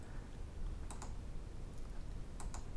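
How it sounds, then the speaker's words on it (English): Computer keyboard keys are pressed during work at a computer, a few faint, crisp clicks in two small clusters over a low background hiss. "I'm using Control on my keyboard"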